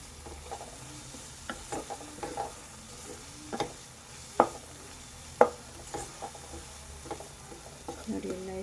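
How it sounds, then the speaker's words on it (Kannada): Mushroom masala frying in a pan, a steady soft sizzle broken by repeated scraping strokes of a spoon stirring through the thick mixture, close and moderately loud, with no talk. "ಸ್ವಲ್ಪ ಚೆನ್ನಾಗಿ ಫ್ರೈ ಆಗಲಿ"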